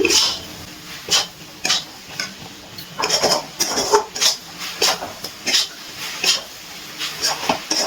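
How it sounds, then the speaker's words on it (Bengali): A spoon scraping and clanking in a pan as ground spices are stirred into elephant apple pickle, a run of regular metallic knocks and scrapes roughly every half second, close and fairly loud. "এবার ভালো করে মশলাটা চালটার সাথে মিশিয়ে নিচ্ছি"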